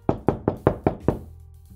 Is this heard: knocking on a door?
yes